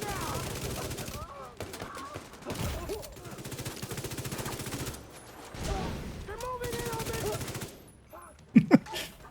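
Mortar fire and explosions in a video game thunder amid a dense stream of layered game noise, with booming blasts and rumbling impacts, ending in a couple of sharp, loud hits.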